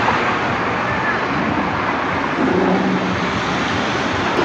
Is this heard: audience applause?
no